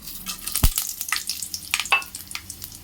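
Mustard oil sizzles in a hot pan for tempering leftover rice, crackling with irregular pops and spits. One sharp knock is followed by busy frying spatter, close and without speech.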